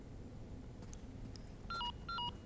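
Resident Evil 4's in-game mobile phone gives a few faint beeps, then two short electronic two-tone chirps, quiet against low background hiss.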